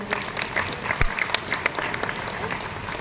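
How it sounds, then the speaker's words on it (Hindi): An audience claps enthusiastically for a few seconds, a dense burst of applause at steady loudness. "तालियां हो जाए उनके लिए जोरदार।"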